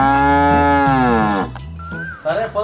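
A buffalo lows in a long, loud, drawn-out moo with a falling pitch, followed by a shorter second call, in a Telugu village setting.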